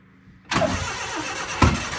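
Subaru Brumby with two engines combined into one running motor cranks and fires up at close range, settling into a steady idle with a brief louder burst near the end.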